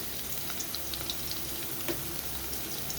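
Green chillies spluttering in hot oil in a pan for manathakkali poriyal, a continuous close sizzle with faint scattered pops, no talk.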